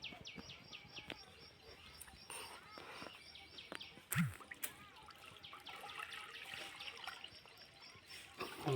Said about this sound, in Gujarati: પાણી નાખી દઉં છું